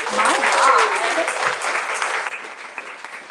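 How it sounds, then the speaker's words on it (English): Loud audience applause at a poetry reading for two poets, starting strong with cheers and a voice over it, then tapering toward the end. "Can we get a round of applause for these two guys?"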